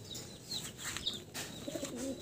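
Pigeons cooing in a loft, several soft rolling coos close by over a quiet background, with no talking.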